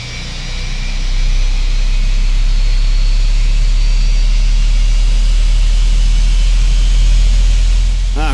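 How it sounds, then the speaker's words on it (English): An airliner's number 2 engine starts up in a flight simulator, a deep, steady rumble and whine that swells over the first second and then holds loud and even. "engine number 2 is starting up nicely"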